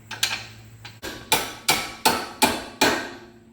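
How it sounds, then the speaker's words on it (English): Six sharp metallic taps of a small hammer on a Lancer coilover suspension part, struck at a steady pace, close up with short ringing decays. "Little hammer for some persuasion."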